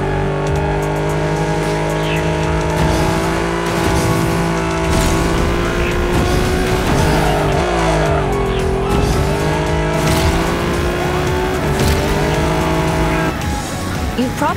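A car lap in the racing video game Ace Racer: a loud, steady engine roar with rising and falling pitch through gear changes, plus tire squeals and skids across the whole stretch.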